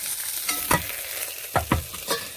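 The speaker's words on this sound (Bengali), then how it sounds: "মাছের মাথাটাকে ভালো করে ভেজে নেব। আমার মাছের মাথাটা ভালো করে ভাজা হয়ে গেছে" A fish head frying in oil in a pan: a soft, continuous background sizzle broken by several sharp spatula scrapes and knocks against the pan, with no voices.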